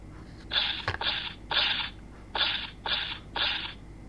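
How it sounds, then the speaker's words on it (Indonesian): Six short rhythmic bursts of hissy, electronic noise from a toy T-Rex dinosaur's footstep sound effect, evenly paced like mechanical footsteps, close up with no talk. "Nah itu dia, suara derap langkah dinosaurus."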